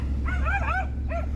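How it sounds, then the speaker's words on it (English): A small dog barks at a scrap wagon, a quick cluster of high yips followed by one more short yelp, over a constant low engine hum. "That little dog was not pleased to see the scrap wagon."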